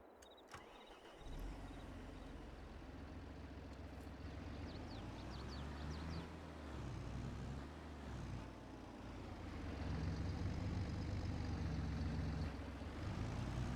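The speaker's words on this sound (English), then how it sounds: "A heavy load for this tractor." Tractor engine in Farming Simulator 22 hauling a full trailer of harvested sunflowers on a hilly Eastern European farm map, a steady low diesel drone that grows louder and heavier toward the end, with no talk.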